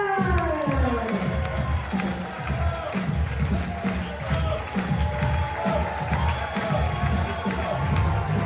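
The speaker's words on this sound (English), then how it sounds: "Big applause all the way from Italy, dall'Italia, Attilio Arcione!" Cruise ship audience on MSC Euribia applauding and cheering for the executive chef, sustained clapping and cheers that fill the room, with a voice over the crowd.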